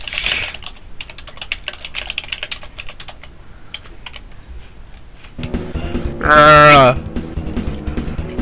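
Rapid, uneven computer keyboard typing clatters through the first five seconds, then gives way to bright electronic game music and sound effects from the retro platformer I Wanna Be The Guy.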